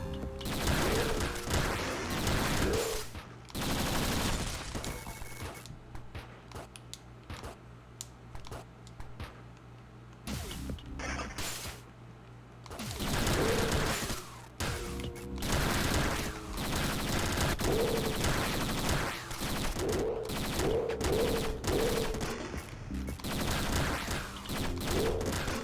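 Noppy weapon fire in Downwell rattles in rapid, dense bursts of clicky game gunshots, stopping and starting through the stretch with a few quieter gaps between volleys.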